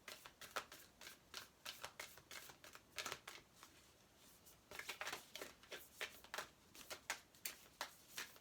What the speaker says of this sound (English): Not the easiest cards to shuffle